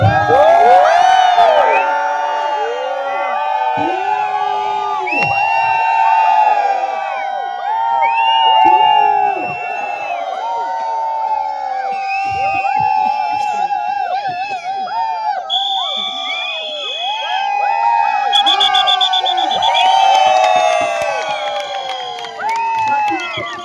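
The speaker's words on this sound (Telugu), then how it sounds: "కేకలు స్టార్ట్ చేయండి." A large crowd at a business marketing event shouts and cheers loudly and continuously, with many overlapping voices rising into whoops and chant-like calls throughout.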